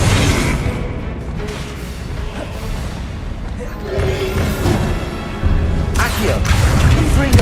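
Confringo spell explosions in the video game Hogwarts Legacy: booming blasts and whooshes, with louder bursts arriving toward the end, set against a dense game backdrop with talking.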